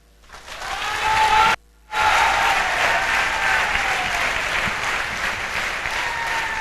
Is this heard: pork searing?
no